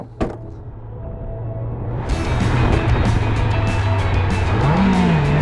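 A car approaches fast with a rising engine roar, and its tires squeal in a long whine toward the end. The sound is loud and close and builds steadily after a brief thump.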